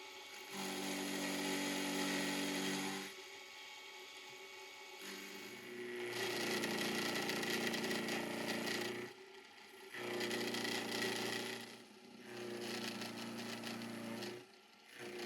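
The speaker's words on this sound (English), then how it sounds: "Now I'm going to put a larger cutter in there and do the sides." A milling machine with a larger cutter machines the sides of a small metal engine governor arm, a continuous close cutting whine in long passes broken by brief pauses as the cut stops and restarts, with no talking.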